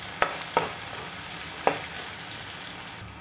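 Raw mango pieces frying in a pan over a low gas flame, a soft, steady sizzle punctuated by three or four sharp taps and scrapes of a spoon as they are stirred.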